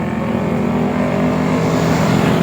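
Several Yamaha NMAX scooters race along a road, their engines making a loud, steady, continuous roar that stays close throughout, with no voices over it.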